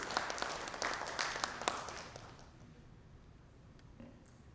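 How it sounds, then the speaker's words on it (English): A crowd at a cyber security congress inauguration in Kolkata claps in a dense burst of applause that gradually thins and fades into quiet room noise. "A huge round of applause as we welcome him, please."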